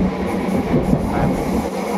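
Loud, continuous rumble and rattle from inside a moving passenger train on the route toward Kalyan, with steady low-frequency wheel and carriage noise throughout and no talking.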